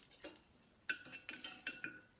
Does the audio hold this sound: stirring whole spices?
yes